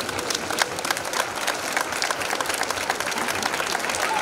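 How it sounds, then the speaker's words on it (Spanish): An audience at a Rosary missions gathering gives a warm round of applause in gratitude to families who worked with the students, a steady, evenly dense clapping that continues throughout. "un cariñoso aplauso de gratitud"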